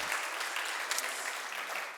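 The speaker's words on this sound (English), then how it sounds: "A little applause." A conference audience applauds, a steady wash of hand clapping from a crowd heard somewhat distant for about two seconds.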